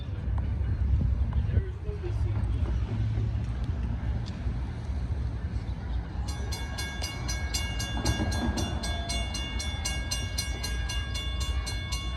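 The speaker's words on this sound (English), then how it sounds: "Here they come, northbound. I think it's an ethanol train." A northbound ethanol freight train rolls past with a steady heavy rumble, and a loud horn blasts repeatedly in the latter half; a voice is heard briefly.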